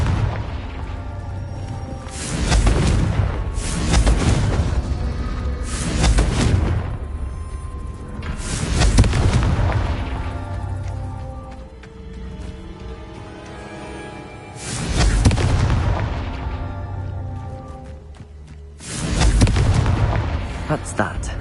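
Confringo fire-spell explosions in the game Hogwarts Legacy, a series of about six heavy booming blasts, each swelling then fading, spaced a few seconds apart under a low ambient bed.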